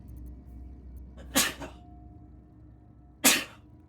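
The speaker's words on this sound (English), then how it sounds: "had a couple of sneezes there" Two sneezes from a man indoors, close and abrupt: the first a double burst with a quick catch, the second a single sharp blast a couple of seconds later, with quiet between.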